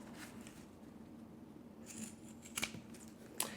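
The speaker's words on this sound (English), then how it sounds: "I'm just going to trim off these excess corners with my pinking shears." Pinking shears snip through fabric to trim excess corners, with faint rustling and a few quiet, crisp cuts heard close by.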